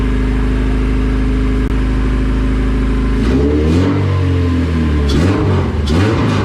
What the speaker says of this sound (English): Alright, Ryan, your motor's alive, buddy.